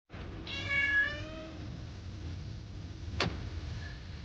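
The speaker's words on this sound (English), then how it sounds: "And I said to Roger, what did the cat say? And he said, meow." A cat gives one drawn-out meow near the start, then a low steady background rumble with a single sharp tick a few seconds later.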